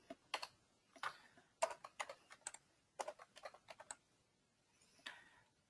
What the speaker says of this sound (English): or we can hand type it in.